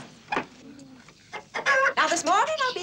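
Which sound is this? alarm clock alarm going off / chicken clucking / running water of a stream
chicken clucking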